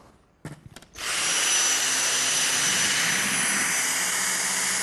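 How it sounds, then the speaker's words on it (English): A Dyson DC59 Animal cordless vacuum with a V6 motor, two-tier cyclones and carbon fibre bristles starts up with a few clicks, then roars in a loud, steady high-pitched whine while picking up fine dust from a hard floor. "we can achieve really effective fine dust pickup on hard floors."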